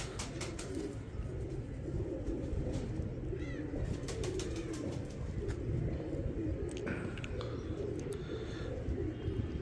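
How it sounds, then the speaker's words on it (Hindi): Pigeons at a breeder's loft coo steadily, soft throaty calls repeating over a continuous murmur of birds with occasional chirps and faint wing flaps. "बड़ा ही जबरदस्त कबूतर है जनाब"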